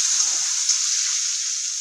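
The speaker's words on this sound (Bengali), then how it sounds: "এখন এই সজনে আর আলুকে একটু হালকা 5 মিনিটের মতন ভেজে নিব" Drumstick (sajna) pieces and potatoes frying in hot oil in a pan, a steady bright sizzle that holds evenly throughout with no talking.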